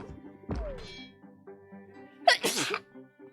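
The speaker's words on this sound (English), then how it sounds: "I'm sorry about the sneeze" A single loud, sharp sneeze bursts out near the end, after a dull thunk and some quiet background tones earlier.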